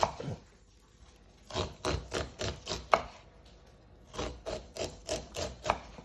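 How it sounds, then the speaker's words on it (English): A knife slices kernels off a sweet corn cob in a steady run of quick, rhythmic rasping cuts, pausing briefly before resuming, close and fairly quiet with no talk. "So grab my sweet corn again with a knife, and I'm just going to cut the kernels off."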